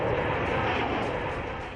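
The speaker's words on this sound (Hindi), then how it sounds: "वायुसेना के लड़ाकू विमान लगातार गश्त लगा रहे हैं।" Military fighter jets on patrol over an air force base, a loud, steady broadband engine roar holding for the whole stretch with no voices.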